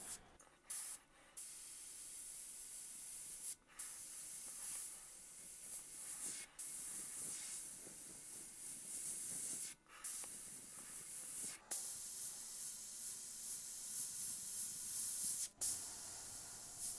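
An airbrush sprays paint through a handheld texture template, moved around while painting a Tasmanian devil with real fire effects: a steady close hiss in repeated long bursts, broken by short pauses, with no talking.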